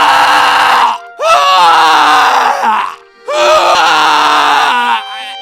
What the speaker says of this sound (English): So that's the medic screams.